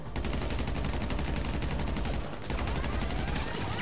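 Special carbine gunfire in GTA 5 Online, a relentless rapid stream of loud automatic shots with a brief break in the middle before the burst resumes.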